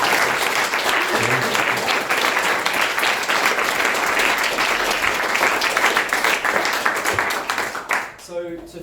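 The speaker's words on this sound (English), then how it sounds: "A massive round of applause for all 3 of them." A large audience claps and applauds steadily at a book celebration with readings, a dense sustained wash of clapping that fades out near the end.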